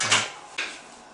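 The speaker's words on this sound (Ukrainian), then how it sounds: "Закриваємо дверку і завжди заслонку до димохода." Metal loading door of an Atmos C40S wood gasification boiler swung shut, giving a brief clank and then a second, softer latch knock about half a second later, close and fairly quiet.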